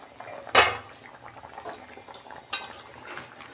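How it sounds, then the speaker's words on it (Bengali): A metal lid comes off a pot of simmering bean, potato, cauliflower and pea curry: a sharp clank, then soft bubbling and a second lighter clink of metal on metal. "দেখুন বন্ধুরা ঢাকনা খুলছি"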